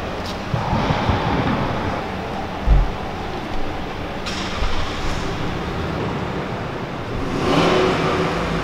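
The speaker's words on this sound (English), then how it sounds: "Mustang revving in the background." A Ford Mustang engine revs and rumbles in the distance, rising and falling over a steady background roar without any speech.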